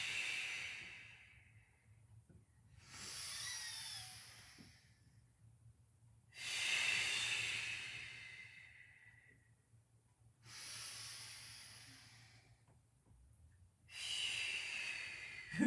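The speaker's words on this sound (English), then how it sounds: "breathing out." Slow, audible breaths during a Pilates balance exercise, with four or five long airy exhales and inhales in an even cycle, close to the microphone and unaccompanied by talk, over a faint low hum.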